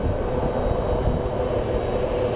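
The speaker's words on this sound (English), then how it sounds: "It's a 7-year-old Boeing 737-800 series." An American Airlines Boeing 737-800 produces a continuous low engine rumble and roar, steady and fairly loud across the short stretch, with no voices.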